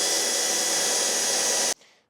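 A power drill runs steadily at high speed while boring through a dump trailer tarp, loud and continuous, then cuts off abruptly and leaves a brief fading whir.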